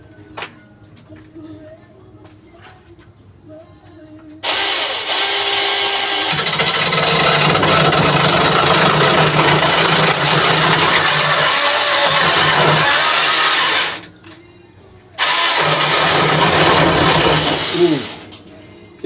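A power tool cuts through bamboo up on a kitchen roof, starting with a loud grinding burst that runs for about ten seconds, stops briefly, then resumes for a couple more seconds, with a few words spoken before it.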